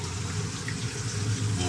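Water running from a sink pipe that was cut because of old pipe glue, a steady close rushing flow heard alone and continuously.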